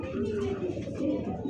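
Pigeons coo at a bird market selling racing and fancy breeds, a soft low rolling warble repeating close by and filling the short stretch without pause.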